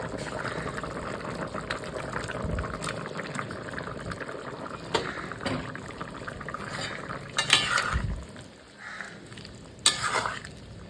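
Paneer cubes stirred into a pot of simmering vegetarian curry, with scattered scraping and clinking of a utensil against the pot over a steady bubbling background, sharper knocks near the end.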